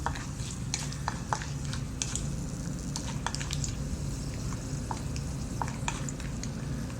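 Something fries in a pan until reddish, giving a low steady sizzle with faint scattered crackles and light stirring taps, close and unvoiced.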